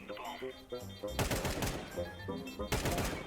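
Bursts of automatic gunfire in Counter-Strike 2 rattle loudly in rapid volleys, separated by brief pauses, with excited voices talking over the shooting.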